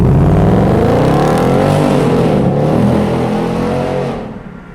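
A Ford Mustang GT engine roars loud and close during a brake-boost launch, holding a strong revving drone that rises in pitch and then fades away toward the end, with no voices.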